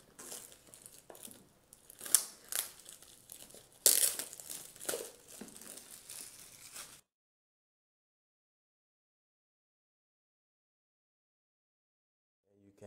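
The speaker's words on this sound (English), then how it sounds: "So we have to remove this plastic covering." Plastic covering being peeled and crinkled off a Wavlink wifi extender, giving close, uneven rustling and tearing for several seconds before abrupt silence.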